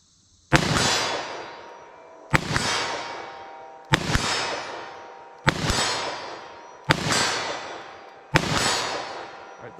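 Compact handgun firing Buffalo Bore .380 ACP+P and .38 Special+P jacketed hollow-point rounds, six sharp loud shots spaced evenly about a second and a half apart, each followed by a short ringing decay.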